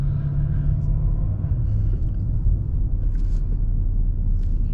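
A 2022 Bentley Continental GT V8 gives off a steady, low exhaust burble and rumble while driving, a deep continuous growl with faint voices at times.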